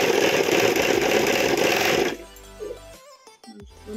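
A zigzag sewing machine stitches fabric with a loud, fast mechanical whir for about two seconds, then stops, followed by quieter clicks and handling sounds.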